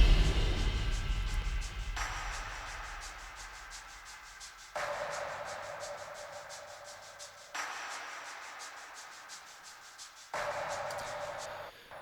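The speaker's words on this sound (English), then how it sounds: "also want to show you the percussion that I did." Programmed percussion in a song section, loud hits every few seconds with bright rhythmic ticks and hi-hat-like patterns layered between them, no voices.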